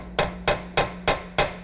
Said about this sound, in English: Align the spline by hand, and with a brass or plastic hammer,